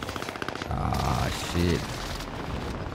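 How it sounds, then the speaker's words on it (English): Gunfire and an incoming precision airstrike in the Call of Duty Warzone video game, with rapid shots and a heavier burst of impacts mid-clip, heard under a player's speech. "Allied precision airstrike incoming."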